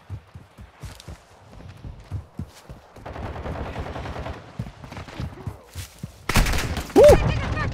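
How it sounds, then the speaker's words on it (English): Gunfire rings out in a Call of Duty Modern Warfare 2 match: scattered sharp shots and quick footstep-like thuds, a denser stretch mid-clip, then a loud burst near the end, with a voice briefly audible. "Taking effective fire."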